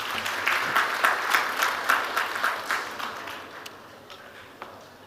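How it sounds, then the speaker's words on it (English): An audience at an evening talk event claps loudly, the applause swelling in uneven bursts before thinning out and fading toward the end. "A big round of applause for Malavika."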